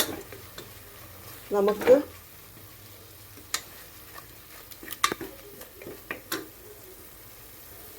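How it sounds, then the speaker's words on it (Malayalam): Coriander, chilli and turmeric powders with masala are sautéed in a pan, heard as close stirring scrapes and clinks with a faint sizzle. A voice briefly speaks amid the scattered utensil sounds. "മല്ലിപ്പൊടി, മുളക് പൊടി, മഞ്ഞൾപ്പൊടി, മസാല ഇത് ചേർത്തിട്ട് അതിലിട്ടൊന്ന് വഴറ്റുകയാണ്"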